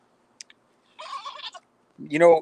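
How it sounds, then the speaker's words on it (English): A farm goat bleats in a pen, coming in short close wavering calls after a brief click, each rising and falling and ending in a louder, longer bleat. "This goat right here, Bocephus here."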